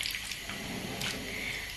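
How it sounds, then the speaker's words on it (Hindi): Water pours and splashes steadily while tamarind pulp is squeezed by hand through a small basket, a continuous close wet trickle with soft squelching. "ये देखें, पानी डालते जाएं और आप इसको दबा के सारा इसका रस निकालते जाएं"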